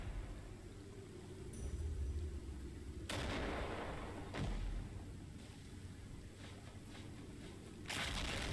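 Mortar rounds firing in the video game Call to Arms, several sharp booming thumps spaced a second or more apart over a low rumbling battlefield background.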